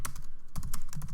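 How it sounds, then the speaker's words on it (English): Quick keystrokes tapped on a computer keyboard while typing text into a design app, a steady run of light clicks close up with a brief pause midway and no voices. "I'm going to hit T for text on my keyboard, and let's go ahead and just type."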